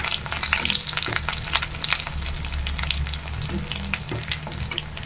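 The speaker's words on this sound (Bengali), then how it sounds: "রসুনটা একটু বেশি ভাজতে হয় সেজন্য আমি রসুনটাকে আগে হালকা ভেজে নেব" Garlic fries in a pan for a red amaranth stir-fry, producing a dense, loud, continuous sizzle with crackling bursts and occasional stirring scrapes close by, no speech.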